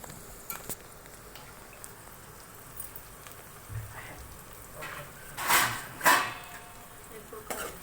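Curry of meal maker soya chunks and potatoes being stirred in a pan, with faint scraping and a couple of louder clinks of the spoon against the metal near the end, over a quiet low sizzle.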